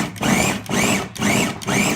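A food processor chops onions, garlic and mini peppers in four even whirring pulses, each about half a second long, with a short pause between them. The motor sound is loud and close.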